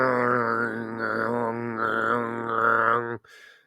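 A person imitates a chainsaw with their voice, making a sustained buzzing drone that wavers for about three seconds and then cuts off abruptly.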